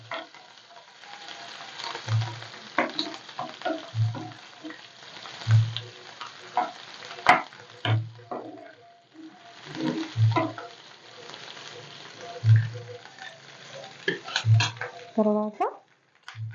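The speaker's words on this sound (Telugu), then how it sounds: "ఇప్పుడు దీంట్లోకి దంచి పెట్టుకున్న అల్లం చిన్నులపాయల పేస్ట్ వేద్దాం." Ginger and shallot paste sizzles in hot oil, a steady frying hiss broken by repeated stirring scrapes and low knocks of a utensil against the pan at a slow, regular rhythm.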